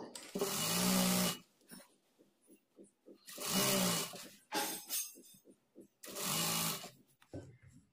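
A sewing machine runs in three loud bursts while stitching a Punjabi dress pant, and quieter clicks and handling noises fill the gaps between runs.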